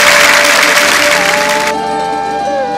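Audience applause at a chèo folk opera performance, a dense loud wash of clapping that cuts off abruptly, giving way to sustained musical tones.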